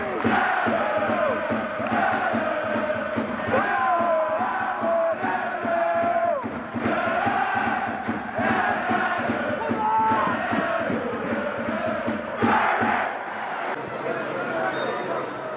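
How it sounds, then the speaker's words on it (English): A football stadium crowd at a Bury FC match roars and chants after a goal, a loud sustained wall of cheering and shouting voices with swells and bursts throughout. "The crowd goes wild and the Shakers are 1-0 up."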